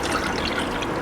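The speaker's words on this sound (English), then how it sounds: "add our 1 cup of" About a cup of water is poured into a pan with sugar to make vanilla bean syrup, a steady close trickling splash lasting about a second.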